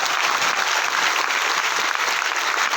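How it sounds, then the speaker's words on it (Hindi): A crowd claps steadily and enthusiastically at a seminar event, a dense, even wash of applause that continues without a break. "भैया अपनी माँ के लिए जोरदार ताली"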